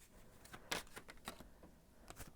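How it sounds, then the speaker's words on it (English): Tarot cards are shuffled in short, quiet, crisp bursts of riffling and sliding, several strokes in quick succession close by. "I'm going to shuffle and see what the cards have to say."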